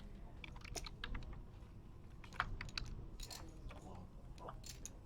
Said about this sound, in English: Mike's typing.